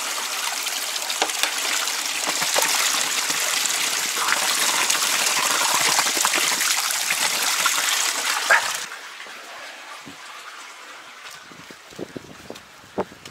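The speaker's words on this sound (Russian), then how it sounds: "она отсюда у нас бежит, ручей, и в пруд впадает." Spring water gushes from a roadside spring into a stream that feeds a pond in the countryside. A loud, steady, close rush runs for most of the stretch, then drops suddenly to a softer trickling flow with a few small splashes.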